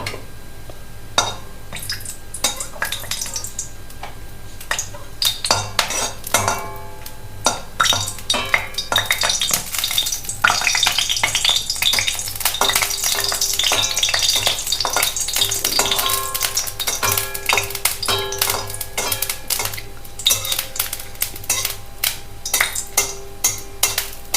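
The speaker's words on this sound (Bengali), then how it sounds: "তেলটা গরম হয়ে আসছে গার্নিশের জন্য একটা লঙ্কা ভেজে রেখে দেবো" Green chilies frying in hot oil for a lentil dal garnish, a crisp crackling sizzle with dense spitting pops and occasional clinks of a utensil on the pan, building and then easing.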